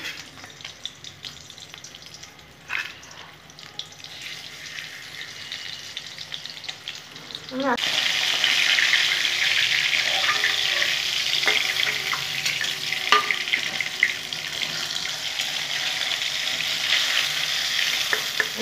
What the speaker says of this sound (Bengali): তেলটা গরম করে নিয়েছি বন্ধুরা, মাছ দিয়ে দিলাম।